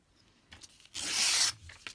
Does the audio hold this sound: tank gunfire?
no